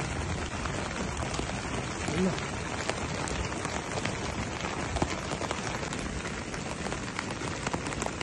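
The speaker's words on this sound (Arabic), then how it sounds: "نمت في الخيمة على صوت هطول المطر" Steady, dense rain pattering on a tent close overhead, a constant hiss with scattered individual drop taps throughout.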